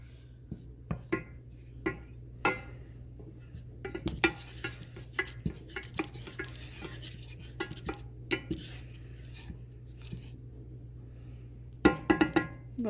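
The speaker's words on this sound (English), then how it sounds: "And we're just going to stir that with our spoon." A spoon clinks and scrapes against a pot while stirring butter, flour, salt and pepper, with irregular sharp taps and steady scraping under a low background hum.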